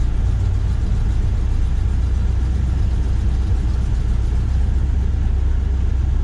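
A Chevrolet Squarebody K10 pickup truck idles in a snowy driveway, a steady, close low-pitched engine rumble with no talk over it.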